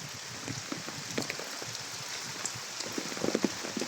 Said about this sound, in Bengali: এখন পর্যন্ত বৃষ্টি হইতেছে